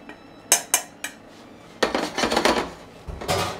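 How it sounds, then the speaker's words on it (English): Metal pan and colander clatter as cooked rhubarb is drained in a kitchen, with several sharp clanks early on, then a longer burst of rattling and scraping, and a final clatter. "So we're going to drain that in the colander."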